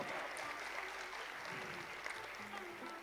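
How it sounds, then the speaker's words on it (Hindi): Applause from devotees at a Bhagavad katha gathering, greeting the Maharaj with a fairly faint, even patter of many hands that carries on steadily for a few seconds. "एक बार महाराज जी के लिए सब लोग जोरदार तालियां बताएं।"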